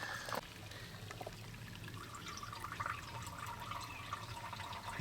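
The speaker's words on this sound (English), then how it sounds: "You can see water coming in" Water pours and trickles into a bucket in a homemade grey-water grease trap, a soft, continuous splashing flow heard close up and fairly quiet, with a faint clunk at the start and end.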